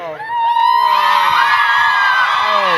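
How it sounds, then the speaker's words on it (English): A convention audience at ACE Comic-Con in Arizona whoops and cheers. Shrill, rising yells swell after a brief lull into a loud, sustained roar of many voices close by. "Please, keep cheering, please."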